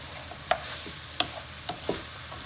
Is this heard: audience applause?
no